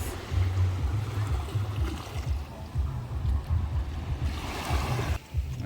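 Ocean waves washing onto a beach in Jamaica, a steady broad roar of surf with low rumbling swells and some wind, heard alone without voices.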